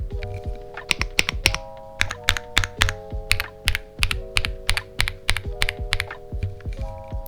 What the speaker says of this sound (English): Did I mention that the keys absolutely sound amazing?